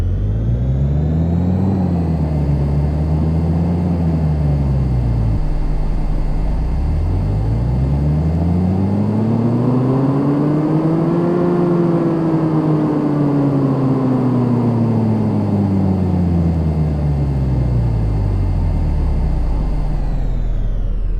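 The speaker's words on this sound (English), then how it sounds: "Let's do a dyno run in it right now." Modified Smart Car engine in the Car Mechanic Simulator game, revving on a dyno: a loud, continuous simulated engine tone that climbs and falls twice, then sweeps steadily up to a peak and back down, with no talking.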